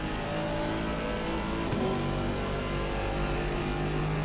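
GT4 race cars at Misano in a PC racing game produce loud, continuous engine roar with steady revving tones, one brief shift in pitch midway, no talk.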